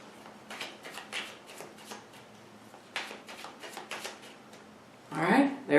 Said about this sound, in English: let's do 3 more shuffles here